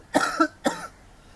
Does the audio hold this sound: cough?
yes